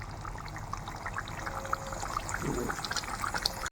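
Neem leaves boil in a pot while making neem oil, producing a steady, close bubbling hiss dotted with small pops and crackles that grow slightly busier toward the end.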